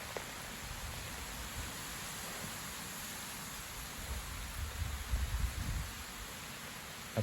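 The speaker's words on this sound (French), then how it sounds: "maintenant il pleut" Steady outdoor rain falling after a strong wind, a broad even hiss throughout with a slight swell of low rumble near the end.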